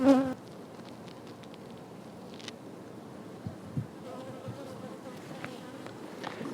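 Honey bees buzz steadily over an open hive frame, a dense close-up drone with occasional louder passes from single bees and no talking.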